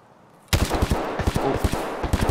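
Automatic gunfire in the shooter game Escape From Tarkov on the Customs map, a sudden loud burst of rapid shots that keeps rattling for nearly two seconds.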